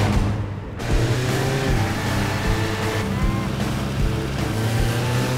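An old Honda car on a test drive gives off a steady engine drone mixed with road and wind rush, loud and continuous, with a brief dip in the noise near the start.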